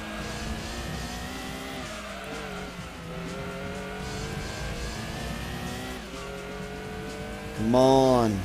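Gran Turismo 2 race cars, including a Supra and a Corvette, at full throttle in a Grand Touring Car Trophy race, with steady engine drone and shifting pitches, ending in a sharp rising rev burst.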